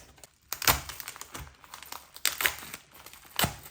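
A large plastic package holding K-pop cards crinkles and crackles up close, with several sharp rustling bursts and quieter handling in between.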